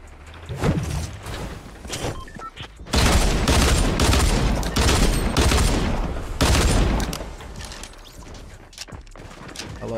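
Pistols fire in Fortnite Battle Royale: loud cracking shots come in clustered volleys, and game effects play between the bursts.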